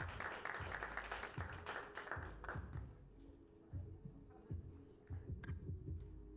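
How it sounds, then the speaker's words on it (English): Audience at a women's tech summit panel claps for the speakers, a dense burst of applause at the start that thins out into scattered claps and low thumps, fairly faint. "a round of applause, please."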